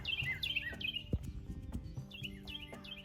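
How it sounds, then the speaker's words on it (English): Several birds chirp and sing in a backyard raised-bed garden at sunrise, bright repeated calls at moderate distance over faint background noise. "The birds sound beautiful."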